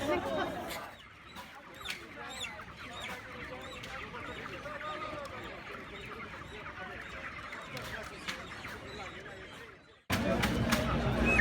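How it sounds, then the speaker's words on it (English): Chickens cluck and squawk at an animal-rights protest beside people talking, a steady busy mix of fowl calls and voices that runs throughout, then grows suddenly louder near the end. "Excuse me, you're hurting that chicken."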